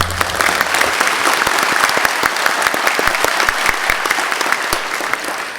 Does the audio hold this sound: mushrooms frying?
no